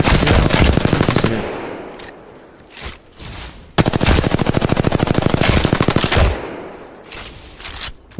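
Rapid automatic weapon fire in the shooter game Apex Legends rattles out in two long sustained bursts with short pauses and a few single shots between, loud and close with no voices.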